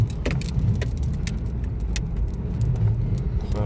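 A repaired Honda car driving along smoothly, a steady close engine and road rumble inside the cabin with a light jangle of keys and small rattles over it.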